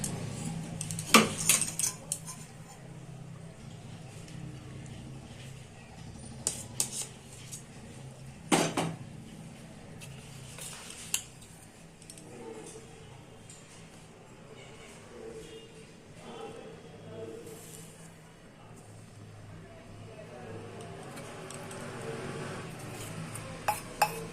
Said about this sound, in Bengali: গুড়টা দিয়ে দিলাম, দিয়ে একটু ভালো করে নেড়ে নেব